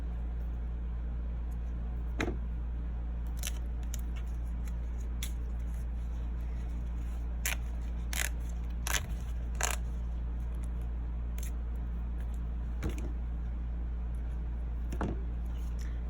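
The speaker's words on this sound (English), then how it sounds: "And then I just cut these little tails." Scissors snipping little thread tails on a sewn snap wallet, a scatter of short, crisp cuts spaced irregularly over a steady low hum, close and fairly quiet.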